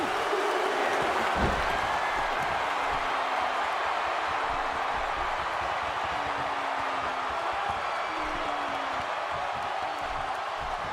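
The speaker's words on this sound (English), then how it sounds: "by the sound of this crowd, I think they're getting what they wanted" A dense, steady roar of arena crowd noise fills a WWE 2K16 wrestling match, broad cheering held at a constant loud level throughout, with a brief thud near the start.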